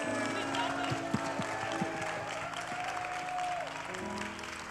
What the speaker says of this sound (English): Can we applaud them?